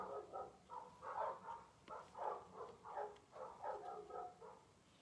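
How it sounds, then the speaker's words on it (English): Dogs barking in the background during a live cake-decorating session in a kitchen, a steady run of repeated barks at moderate distance, fairly faint. "Oh, there's the dogs barking again."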